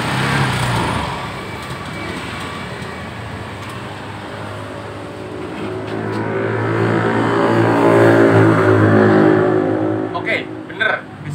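A fuel-injected motorcycle that starts with difficulty and will not take throttle, its engine idling then rising in a drawn-out rev and settling again, close and loud, with a person talking over it.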